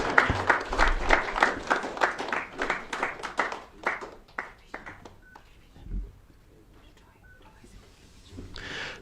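Audience at a Nairobi book launch claps in loud, rhythmic bursts that fade away after a few seconds, leaving quiet room noise with faint voices and a small rise of sound near the end.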